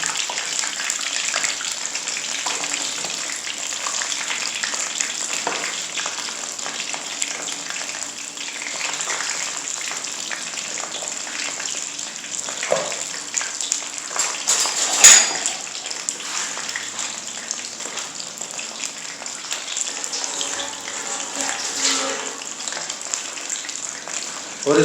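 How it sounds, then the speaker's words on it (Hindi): Bread slices for shahi tukda sizzle and crackle in hot oil over a medium flame, a soft, steady frying hiss that continues evenly throughout at low volume. "इसको फ्राई करना है तब तक जब तक ये गोल्डन ब्राउन नहीं हो जाते"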